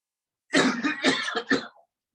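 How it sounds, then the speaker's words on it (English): A single harsh cough during a yoga breathing exercise, after a deep inhale, breaks into several quick, chesty bursts in close succession, then silence. "Again, breathe in and cough again."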